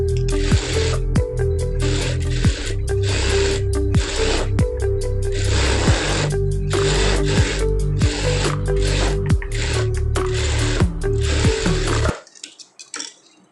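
A sewing machine running a long stitch around a lined blouse piece, its needle clattering steadily in quick bursts broken by brief pauses. It stops near the end, leaving faint handling noise.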